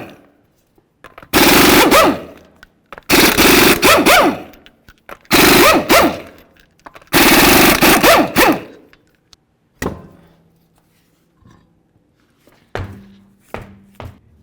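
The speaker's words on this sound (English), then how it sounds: "we're going to remove all 5 of our 19mm lug nuts and then the wheel" An impact wrench rattles off 19mm lug nuts from a 2006-2010 Ford Explorer wheel in four loud, hammering bursts of about a second each, followed by quieter clinks and thuds of loose parts.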